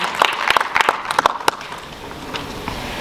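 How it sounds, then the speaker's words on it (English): A few scattered, sharp hand claps from a small audience at a cryptocurrency law panel discussion in Warsaw, clustered in the first half and then fading into quiet room ambience. "Please applause for our panelists."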